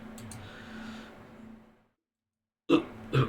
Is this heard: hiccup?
yes